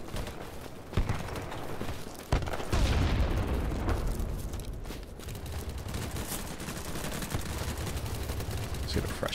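Sniper fire in the online shooter BattleBit Remastered, with several sharp shots spread across a busy firefight and a heavy blast near the middle. Other gunfire crackles steadily throughout and voices are heard.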